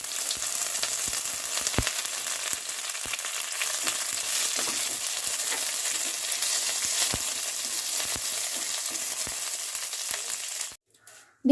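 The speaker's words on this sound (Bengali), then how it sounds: "প্রথমে নিম পাতাগুলোকে ভেজে নিচ্ছি" Neem leaves frying in hot oil for a Bengali shukto, a steady close crackling sizzle with scattered sharp pops, continuous and even until it cuts off abruptly near the end.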